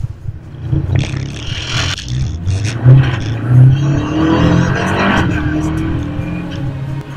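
A Volkswagen Polo R race car engine drones and climbs in pitch as it accelerates, loud and close, with rising revs and some scraping and clatter from the car over the full stretch.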